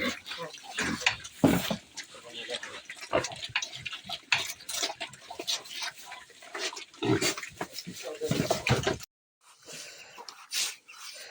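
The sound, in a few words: pigs oinking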